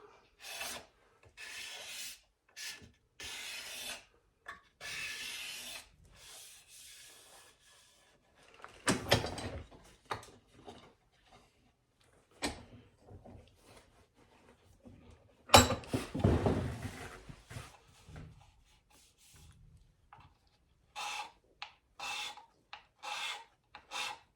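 Hand scraper drawn repeatedly across the wooden faces of winding sticks, a series of close, dry rasping strokes in uneven bursts with short pauses, some strokes heavier and longer than others, no talking.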